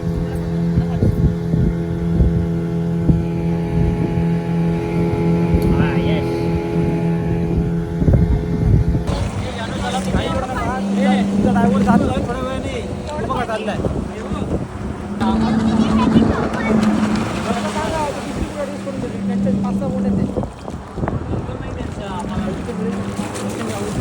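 A motorboat carries passengers across the water at a spot locals call Mini Kerala, its steady engine drone and wind buffeting running throughout while people talk over it.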